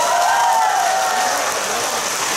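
An audience claps steadily through a live performance at a Seoul convention hall, dense sustained applause filling the space with no voices on top.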